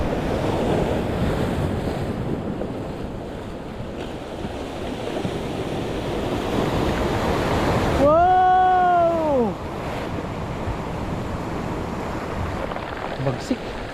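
Sea waves wash in at the shore as steady wind buffets the microphone. The surf roars continuously and close, and a brief rising-then-falling whistling tone cuts through midway.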